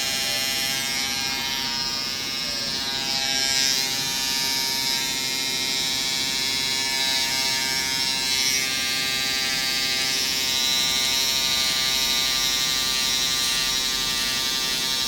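Electric hair trimmer cutting hair, a close, steady high buzz that continues throughout with slight changes in tone as it moves through the hair.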